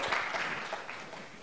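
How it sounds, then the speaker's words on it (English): Audience applause after a presentation at a conference, a brief dense wash of clapping from a seated crowd, steady and moderately loud. "Big applause, please."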